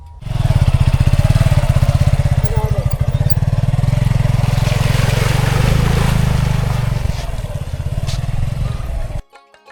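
A motorcycle ridden in a village in the Shalmara char area, its engine droning loud and close with steady rumbling throttle and wind buffeting, fading out abruptly at the end.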